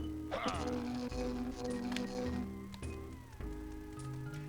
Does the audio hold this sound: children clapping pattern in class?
no